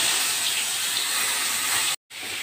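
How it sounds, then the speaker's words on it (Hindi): Masala spices hitting hot oil give a loud, continuous hissing sizzle, broken once by a split-second gap before the sizzle resumes. "मेरा ऑयल था ना वो गर्म हो चुका है, तो अब मैं डाल दूँगी इसमें मसाला।"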